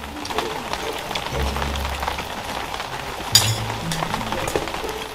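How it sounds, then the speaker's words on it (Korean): Heavy rain pouring on a large tent during a downpour at a campsite, a dense steady hiss with scattered drops and a brief sharp knock partway through, no voices. "와, 빗소리 너무 좋은데?"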